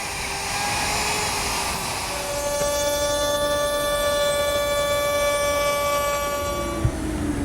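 A router fitted with a 1/2 inch cove bit shapes the decorative edge of a wooden dower chest lid, a steady high whine holding for several seconds, close and loud, with no talk.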